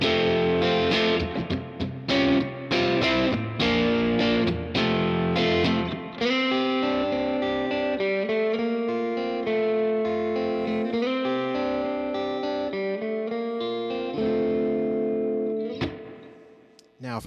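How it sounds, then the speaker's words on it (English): A surf rock guitar riff played through a Vox AC10 amp with only the amp's reverb on rings out as bright, twangy picked notes and chords with a reverberant tail, loud and close, fading out near the end. "But so this is with just the amp reverb."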